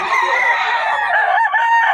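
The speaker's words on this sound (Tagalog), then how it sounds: "nakuha na pala yung manok ni Boss Perry" A rooster crows close by, one long, loud, drawn-out call with a strained, wavering tone.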